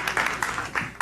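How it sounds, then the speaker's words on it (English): A small audience claps for a speaker at a property networking evening in Soweto, scattered uneven hand claps over a single second without any speech. "Let's give him a round of applause, ladies and gentlemen."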